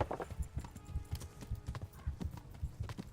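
Horse hooves clip-clop in a steady, quick trotting rhythm in the medieval video game Kingdom Come: Deliverance. The hoofbeats are close but fairly quiet, with no talk over them.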